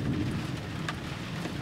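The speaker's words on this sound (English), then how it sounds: "That's some decent-sized hail. It's probably like the size of peas." Pea-sized hail and rain drum on a camper van roof during a storm, a dense steady rushing patter with a low rumble and a few sharper hits, fairly loud and continuous, with no voices.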